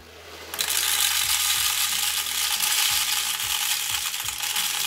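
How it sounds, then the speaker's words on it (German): BBs poured into an airsoft speedloader make a dense, continuous rattling clatter of small plastic pellets. The sound is close and steady and starts abruptly after a brief quiet moment. "So, befüllen wir den Speedloader mal mit BBs."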